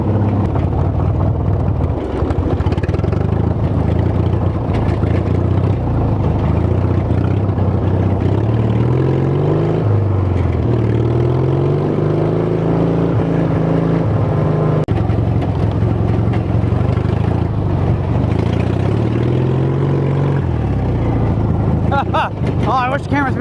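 Dinky engine on a small belt-driven vehicle, revving and droning steadily as it shifts smoothly up a gear, pitch climbing and settling, with someone talking over the running motor.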